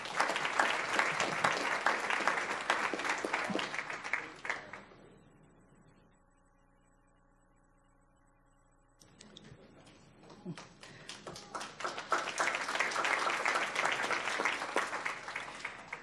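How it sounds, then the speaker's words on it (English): An audience applauds at a school district board meeting during an award presentation. The dense clapping fades out to near silence with faint tonal hum. It then swells back up into loud, sustained applause. "Let's give him a round of applause."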